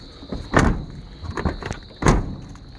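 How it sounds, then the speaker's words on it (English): A Dodge truck door is opened and shut at a speed shop, with two solid heavy slams and a few smaller clunks between them, close up, under a faint steady high whine and no talk. "Door closes pretty solid."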